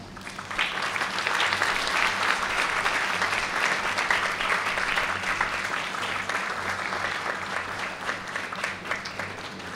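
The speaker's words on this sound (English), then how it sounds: "give a round of applause to those who helped them in this journey" Graduates at a graduation ceremony applauding together, a broad, sustained wash of clapping from a large crowd in a hall that stays full and even throughout.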